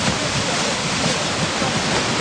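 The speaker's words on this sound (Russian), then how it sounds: "Лед пошел." Rushing river water roars loud and continuous as ice breaks up and drifts downstream, a dense, steady wash of noise with no voices.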